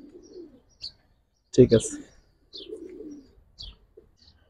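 Silver pigeons of the Giribaz breed coo in short, soft bursts, with one louder flurry in the middle, while someone speaks briefly nearby.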